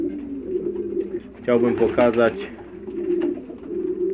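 Pigeons coo steadily in a pigeon loft, a low, continuous murmur running beneath a man's speech.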